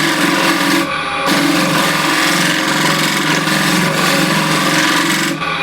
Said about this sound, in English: Just shear scrape the curve here.